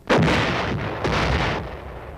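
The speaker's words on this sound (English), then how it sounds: "And so, a howitzer lets one go." A U.S. Army howitzer fires a single artillery round: a loud, sharp blast followed by a long rumbling roar that swells again before slowly fading, with no voices.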